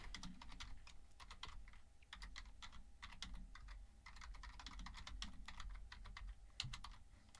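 Rapid typing on a computer keyboard, close up, a steady run of sharp key clicks with brief pauses and no talk.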